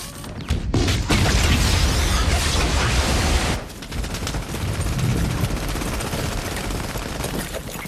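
Battle gunfire and explosions from the film The Longest Day at Omaha Beach: dense, loud, continuous bursts of machine-gun fire and booms, a heavy barrage that briefly dips near the middle and then resumes.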